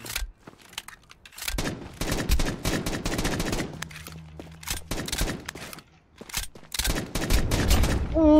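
Bursts of rapid video game gunfire crackle in uneven volleys, loud and close, with brief pauses between exchanges.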